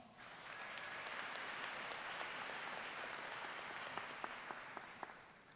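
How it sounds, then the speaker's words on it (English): A high school commencement audience applauds, with steady massed clapping at a moderate distance that holds throughout and thins slightly toward the end, a few individual claps standing out. "Give yourselves a round of applause."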